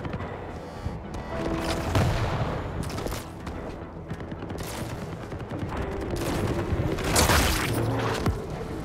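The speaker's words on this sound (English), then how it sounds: "Shotgun." Shotgun fire in the arena shooter Quake Champions: several loud, sharp blasts burst out close by amid other gunfire and explosions in a chaotic firefight, with no one speaking.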